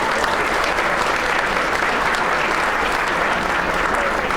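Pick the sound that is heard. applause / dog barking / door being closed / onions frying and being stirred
applause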